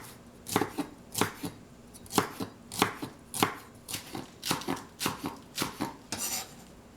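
A knife chops green onions on a cutting board in quick, even strikes, about a dozen crisp close taps with short pauses between them and no talking.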